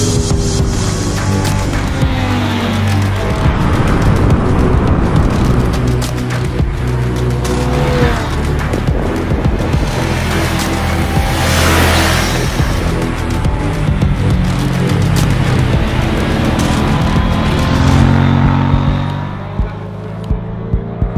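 A KTM 790 Duke and a Triumph Street Triple R race around a raceway, engines revving hard and shifting through gears, loud and close throughout with a constant rush of wind.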